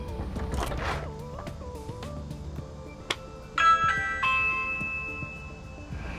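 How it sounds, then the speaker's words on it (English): A Ring smart doorbell's electronic chime rings out, followed by a rising tonal alert with ringing notes, over faint background tones; no talking. "So when someone rings my doorbell"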